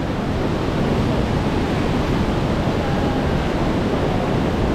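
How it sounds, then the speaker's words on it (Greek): Rushing water from the top of the waterfalls at Edessa, a steady, loud broadband roar that holds unbroken from start to finish, with no voices over it. "Είμαστε στην κορυφή του καταράκτη."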